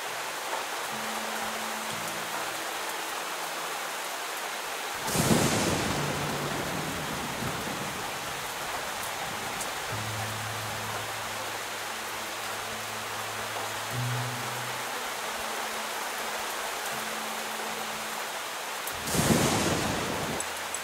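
Steady rain hisses in the video game Fall of Porcupine, a dense, even downpour lasting throughout, with two brief louder gusts or rumbles and soft low musical tones underneath.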